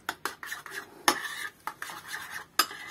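A spoon stirs yogurt marinade in a bowl, a series of close, quick scraping clinks against the bowl in an uneven rhythm with no talking.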